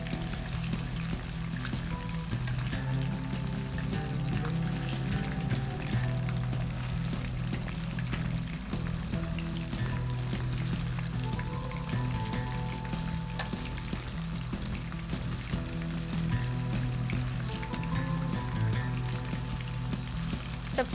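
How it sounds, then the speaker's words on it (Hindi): Fish pieces for a Lahore-style fish fry deep-fry in hot oil, a dense continuous bubbling sizzle that stays loud and even from start to finish with no talk. "जब तक ये फ्राई हो रहे हैं हमारे पीसेस"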